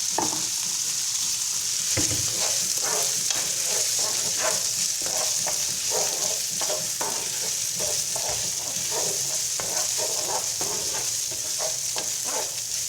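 Baldo rice sautéing in a pan for a chickpea pilaf: a continuous loud sizzle with rhythmic scraping stirs repeating steadily throughout.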